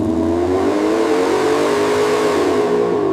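A 1966 Pontiac GTO V8 rated at 360 horsepower with three carburetors revs loud and close, a steady powerful engine drone whose pitch rises slowly and then eases back, with no voices.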